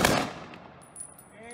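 A rifle volley from a 21-gun salute at a memorial service: one loud, sharp crack at the start that echoes and fades over about a second outdoors.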